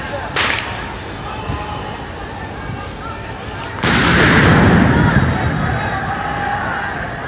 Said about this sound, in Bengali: একের পর এক সাউন্ড গ্রেনেড